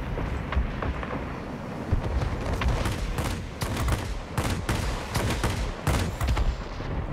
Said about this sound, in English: Guns overheat pretty bad, so got to be careful with that.